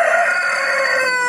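A local chicken at a bird market in Khulbuk gives a loud, close crow lasting over a second, with no talk around it.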